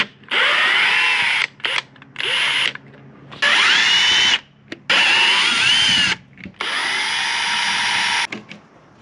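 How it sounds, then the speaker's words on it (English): Power drill driving out Phillips screws from the inside door handle of an RV, heard as several loud whirring bursts of a few seconds each, separated by short pauses and brief ratcheting starts, close up with no talking. "first thing we really need to do is unscrew the factory door handle"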